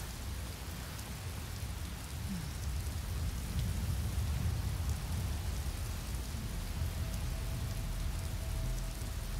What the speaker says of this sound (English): Hopefully the rain will be gone by the morning